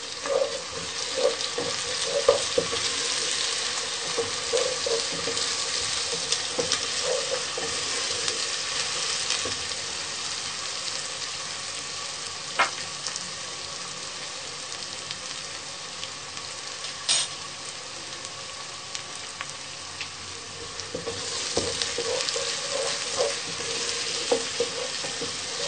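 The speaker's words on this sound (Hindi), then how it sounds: "अच्छे से हम इसको भूनेंगे ताकि इसमें ये कच्चापन खत्म हो जाए।" Garlic and ginger paste fries in a pan for an aloo matar sabji, a steady close sizzle that runs throughout, broken by occasional clinks and scraping stirs of a spoon, with no talking.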